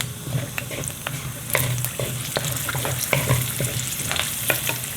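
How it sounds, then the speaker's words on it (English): Cumin seeds crackling in hot oil, a dense bright sizzle peppered with quick pops and occasional scraping stirs, close and fairly loud throughout with no talking. "And now I'm going to add this cumin seed in there first."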